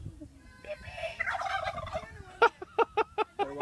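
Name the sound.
wild turkeys gobbling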